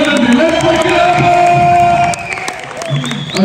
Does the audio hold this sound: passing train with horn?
no